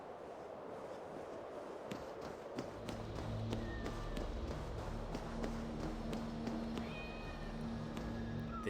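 Cats meowing in Assassin's Creed Valhalla, Freya's cats, set against a steady game ambience with a low hum and several short high-pitched calls scattered across the scene.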